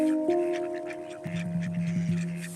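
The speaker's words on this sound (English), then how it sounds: "You hear the ducks quacking away in the background?" Ducks quack repeatedly in the background, a steady run of nasal calls under sustained tonal notes from a handpan-like instrument, moderately close and continuous throughout.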